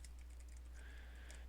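A Flatshot command is typed on a computer keyboard in a quick, soft run of key clicks, close but faint over a low steady hum, with no voice.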